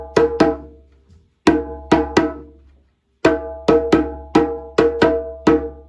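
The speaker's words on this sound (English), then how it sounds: "Next part of our drumming song is the chorus." A drum chorus played by hand, sharp ringing hits in short groups of two and three with pauses between, loud and close with no talking.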